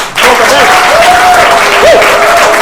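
An audience at an improv comedy show breaks into loud, steady applause, a dense wash of clapping from many hands that sustains evenly for a couple of seconds.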